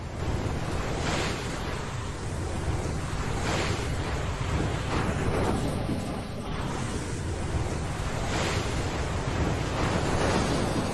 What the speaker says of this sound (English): The massive waves struck right at their heels and they escaped by a hair's breadth.